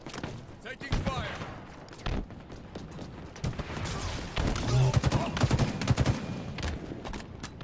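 Video game gunfire in Halo Infinite: a busy firefight with repeated sharp shots and bursts, some thumping impacts, spread across the clip over game noise and occasional voices.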